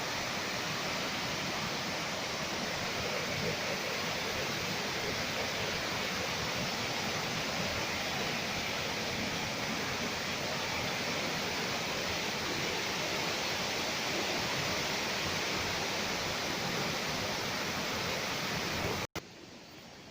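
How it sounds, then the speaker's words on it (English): Water pours over the weir in Rouken Glen park, a loud steady rush of splashing that holds unbroken for almost the whole stretch, then cuts out at the end. "it violently falls down over the weir, putting that splashing sound"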